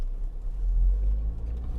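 An MG GS SUV with a 2-liter turbo engine and 6-speed dual clutch transmission pulls away, giving a deep, steady engine rumble with road noise, heard from inside with no voices.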